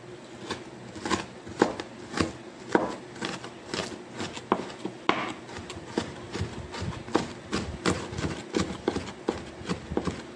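Onion chopped with a knife on a board for pork tacos, with a quick series of sharp, fairly close chopping knocks in an uneven rhythm, no talking.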